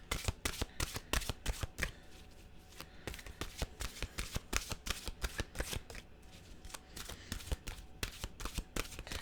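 Tarot cards being shuffled and handled close up, a rapid run of crisp riffling snaps and flicks in irregular bursts, quiet and alone with no talk.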